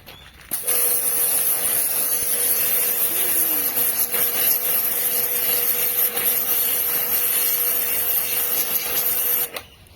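An AGARO Supreme Plus 2200-watt high pressure washer starts up and sprays a car, giving a loud, steady hissing whine that runs unbroken for about nine seconds before cutting off abruptly.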